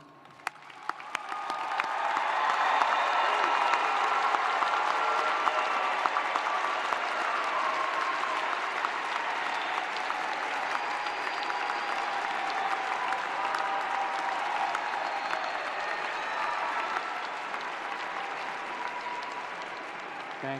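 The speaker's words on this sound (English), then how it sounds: "would you please stand so we can applaud your accomplishments?" A large graduation crowd at Florida State University's fall commencement gives honor graduates sustained applause, a broad, dense roar of clapping that swells quickly and holds steady for about twenty seconds before easing slightly.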